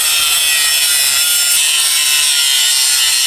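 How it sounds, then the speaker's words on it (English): Angle grinder cutting wider slots into stuck screws, a steady loud harsh grinding hiss that runs unbroken for the whole stretch, with no voices over it. "Gonna finish the rest of them with creating a bigger slot with the angle grinder"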